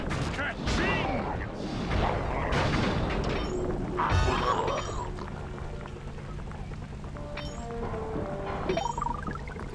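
Booming cannon blasts and crashing explosions as a tank is destroyed by turret fire in a video game, dense heavy bursts early on fading into lighter game effects and tones, loud and close.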